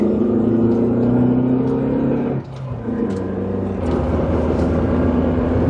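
A Honda Element fitted with a Buddy Club short shifter drives on a test run, its engine humming loudly through the gears with a brief dip during a shift before the drone resumes.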